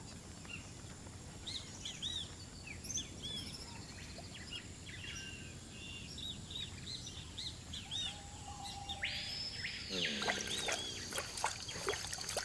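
Birds, including scarlet ibis, call in a brackish mangrove swamp: scattered faint chirps and tweets over a soft wash of ambient noise, with a brief louder call near the end.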